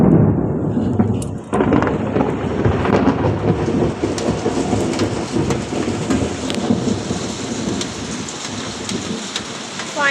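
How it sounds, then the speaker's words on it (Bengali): Thunder rumbles through a cloudy sky while steady rain patters on surfaces nearby. The roll is loud and continuous and slowly fades. "এখন কিরমভাবে আকাশটা ডাকছে দেখো।"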